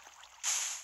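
Water poured from a bucket in Minecraft suddenly rushes out in a bright, hissing splash that starts partway through and keeps flowing steadily, close and clear with no talking.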